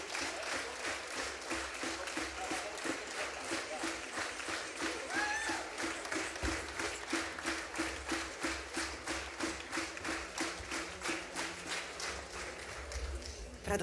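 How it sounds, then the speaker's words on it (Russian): A concert audience claps in rhythmic unison for an accordionist performing with a Russian folk-instrument orchestra. The beats are even and quick, holding a steady pulse from start to end at moderate distance, with a faint murmur underneath. "Спасибо вам, дорогой зритель, за ваши теплые аплодисменты"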